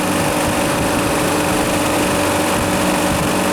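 A weak three-phase refrigeration compressor runs with a loud, steady, close mechanical drone that holds an even buzzing hum throughout.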